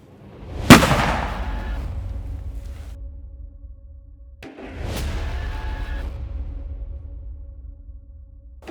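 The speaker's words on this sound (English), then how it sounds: "So here we go, first shot. Hammer is cocked." A rifle fires a standard load from a test fixture outdoors: one sharp, loud report at about 0.7 s rings out and decays, then a second loud burst follows near 4.5 s, both trailing into a long rumbling tail.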